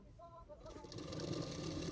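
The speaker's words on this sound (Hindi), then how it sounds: "और उसको मैं इस तरह से सिलाई कर रही हूँ।" A sewing machine stitching blouse fabric starts up partway through and keeps running with a fast, even mechanical whirr, close and moderately loud.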